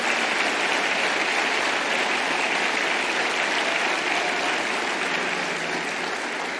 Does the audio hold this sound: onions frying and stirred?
no